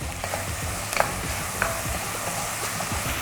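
Homemade beef chili stirred in a pot, a soft continuous scraping and bubbling sizzle with a few faint clicks of the spoon, quiet and steady with no talking.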